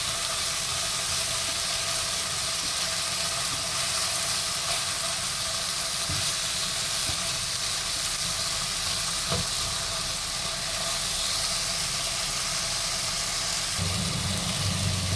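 Skinless chicken pieces fry in a pan until browning, giving a steady, loud, close sizzle throughout with a few faint stirring knocks and no speech.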